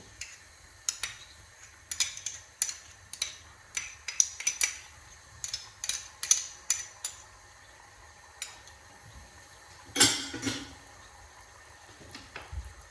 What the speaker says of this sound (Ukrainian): Просто це все також перемішуємо сюди в нашу сковорідку.